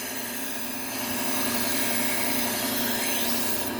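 A Henckels kitchen knife edge is drawn across a 600-grit sharpening stone, a steady gritty rubbing scrape running continuously and close, with no talking over it.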